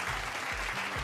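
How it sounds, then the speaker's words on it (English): Brief burst of audience applause at a corporate awards event, fairly faint with a low booming background. "Let's give him a big round of applause"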